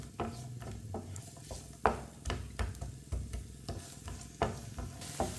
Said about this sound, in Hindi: प्याज को 2 मिनट के लिए पका लेंगे।